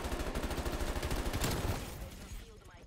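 Rapid automatic gunfire from a heavy gun in Black Ops Cold War rattles in quick, regular bursts for about two seconds before fading into quieter game ambience.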